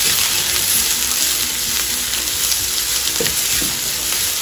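Chopped onion sizzles and fries steadily in hot oil over browned garlic while being cooked for urad chana dal, a dense continuous crackle up close with occasional stirring scrapes.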